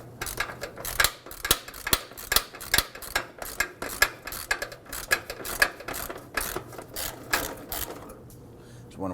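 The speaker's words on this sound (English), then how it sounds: "There's 4 12 millimeter bolts holding it in place. Let's go ahead and loosen and remove the hardware for this." A ratchet loosening 12 mm heat shield bolts on a 2005-2009 Subaru Legacy 2.5L H4, a rapid series of sharp clicking bursts in quick rhythm, close and clear, fading at the end.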